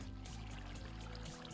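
Water poured from a bucket in Minecraft, a short steady gushing wash of sound lasting just over a second, with a low background hum and no talk.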